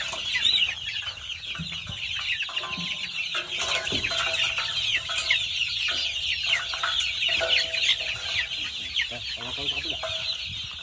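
Chickens and chicks in a range cluck and peep continuously nearby, a busy layered chatter of high cheeping over lower clucks.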